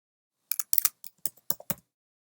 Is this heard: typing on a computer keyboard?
yes